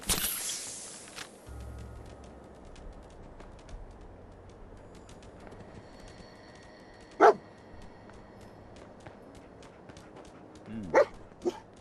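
A dog in Fallout 4 gives a couple of sharp, distinct barks, one mid-stretch and a pair near the end, over a low ambient hum with faint footsteps.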